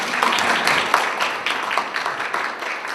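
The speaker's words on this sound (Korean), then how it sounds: "발제를 맡으신 서은숙 원원님께 다시 한번 큰 박수 부탁드립니다" Audience applause at a university policy graduate school academic symposium for a presenter who has just finished her talk, a moderate, steady patter of many hands clapping at a medium distance.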